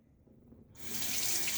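A bathroom water tap suddenly opens and runs steadily into a sink near the start of a shave, the rushing flow loud and continuous after a quiet moment.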